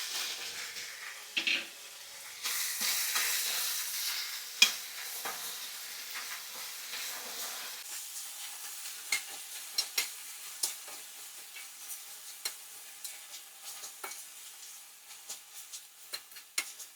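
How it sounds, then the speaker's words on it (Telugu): Coriander leaves frying in a pan with green chillies, a faint steady sizzle with scattered soft stirring taps and scrapes, close and quiet throughout. "కొంచెం ఫ్రై అవ్వాలండి."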